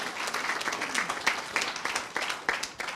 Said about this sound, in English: Could we give them a big round of applause?